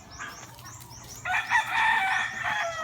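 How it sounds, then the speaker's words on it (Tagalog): A rooster crows loudly nearby, a long strained call rising over faint background clucking and outdoor ambience. "So, ganda ng manok ni Kapipi."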